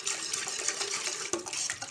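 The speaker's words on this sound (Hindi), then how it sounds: "तो उसमें आप जो है 2 गिलास पानी डालें" Water poured into yogurt in a pot for Punjabi kadhi curry, a continuous splashing, gurgling pour close by, with a small clink partway through.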